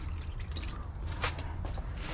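Water poured quickly, not gently, into a potted plant, a steady liquid splashing and dripping close by with a few brighter splash bursts.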